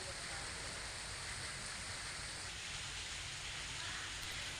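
Monsoon rain falling in Junagadh, Gujarat, a steady even hiss of rainfall filling the whole stretch without pause, moderately loud and uniform.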